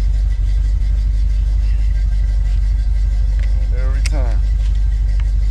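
A car engine idles with a steady, loud low rumble that holds throughout, close by, while someone speaks briefly over it.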